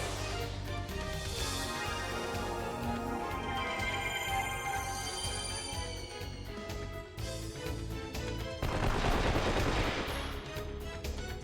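Characters in a video game firing guns, with bursts of gunfire and rapid shots mixed with game music and effects, including a louder, denser volley near the end.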